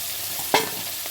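Cauliflower florets fry in hot oil in a pan, a steady close sizzle broken by one sharp stirring scrape near the middle.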